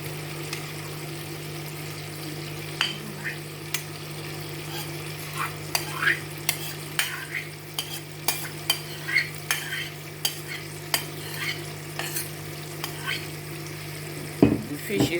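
Titus fish fries in a pan with a constant sizzle while a utensil scrapes and taps the pan in a regular stirring rhythm, close and clear, with a low hum underneath.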